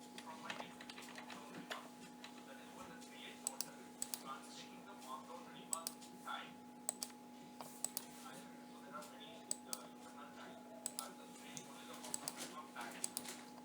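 Typing on a computer keyboard while building a table in MS Word: steady, light, close key clicks running throughout, with soft talk underneath and a constant low electrical hum.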